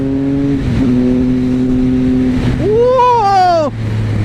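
Triumph Speed Triple RS motorcycle engine on the road, a steady loud drone that swells into a rising rev and then drops back, heard close and continuous with no talk over it.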